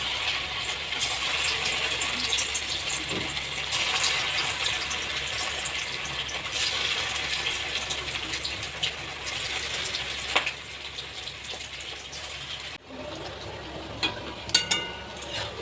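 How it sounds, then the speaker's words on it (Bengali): Bombay duck fish pakoras frying in hot oil, a steady close sizzling hiss running throughout with a few faint clicks and a brief quieter break near the end. "তেল গরম হয়ে গেছে এবার একে একে পকোটাগুলো ছাড়বো"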